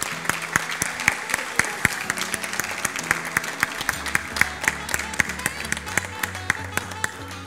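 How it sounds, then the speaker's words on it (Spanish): Sustained applause from a crowd at a preschool graduation ceremony for a kindergarten child, dense steady clapping with louder individual claps, and faint voices underneath. "Y nosotros le damos un fuerte aplauso a Sofi."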